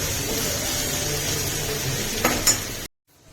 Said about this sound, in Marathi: त्याच तेलात तुम्ही आता कांदा परतून घ्या.